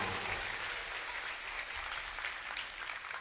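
An audience at a religious discourse claps together, a dense, continuous burst of applause lasting a few seconds at a steady level.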